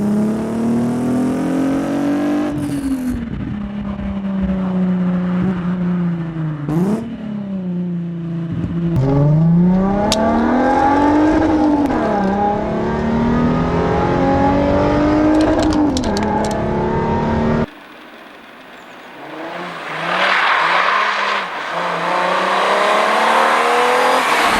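An Alfa Romeo Busso V6 revs hard through rising and falling pitches, climbing through gears with brief pauses between pulls, loud and close, then falls off abruptly before a fainter, hissing stretch.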